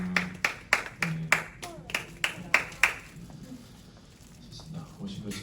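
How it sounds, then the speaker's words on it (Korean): Sharp, fairly close rhythmic clapping in a Korean church service welcoming two students, about ten distinct claps at an even beat before fading into murmuring voices and room noise. "박수로 환영하겠습니다."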